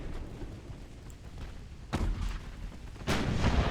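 Battleship guns fire at and hit a heavy cruiser in a naval battle in Ultimate Admiral: Dreadnoughts. Deep booming artillery reports roll out over a low rumble, with two sharp loud blasts standing out, and no talk.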